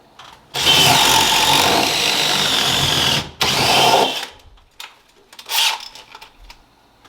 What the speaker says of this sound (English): I'll have to drill in this way and try to fish the wire through this corner